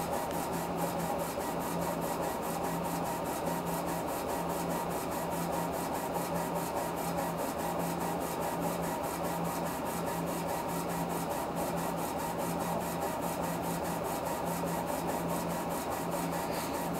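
A Laserpro 50 watt CO2 laser engraving machine runs steadily, a constant mechanical hum with a low tone and a fast, even rasping buzz that holds without a break throughout.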